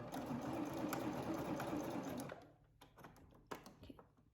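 Serger stitching fabric for a sleeveless scoop-back bodice, a fast close rattling run of about two seconds, then stopping, followed by a few light clicks and handling noises.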